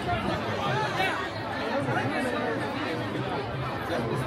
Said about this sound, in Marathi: फुल गर्दी झाली.